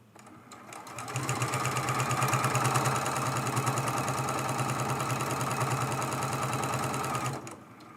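A sewing machine runs steadily for several seconds, stitching fabric along the raw edge of a quilt-as-you-go table runner, its rapid rhythmic whir close and even before it stops.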